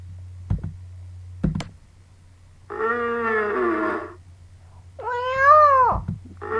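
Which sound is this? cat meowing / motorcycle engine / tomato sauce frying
cat meowing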